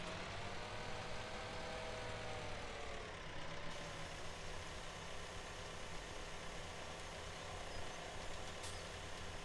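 A New Holland T5 tractor idles in Farming Simulator 17 on a Scottish map, giving a steady, low, droning engine rumble with broad noise. It stays constant and fairly quiet throughout, with no voices.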